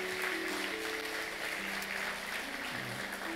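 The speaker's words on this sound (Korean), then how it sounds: "박수로 우리 환영하겠습니다" Church congregation applauding to welcome a visiting family member during a Sunday service in a Daegu church, a steady wash of clapping that fills the room at moderate level with faint talk or tones underneath.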